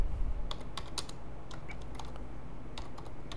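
Keys being typed on a computer keyboard, a run of clicky taps in irregular bursts against a steady low background hum, with no talking.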